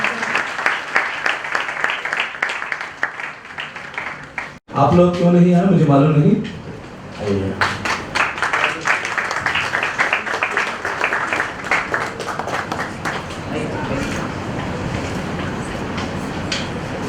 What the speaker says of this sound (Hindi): जोर से ताली बजा के हम ब्रदर प्रदीप रंजन का स्वागत करें।